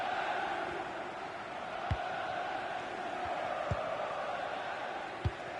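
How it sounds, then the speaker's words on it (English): A football stadium crowd late in a Napoli match, a broad distant roar of many voices with sporadic chanting, steady and moderately loud, with a few sharp thumps. "Well, just listen to this crowd."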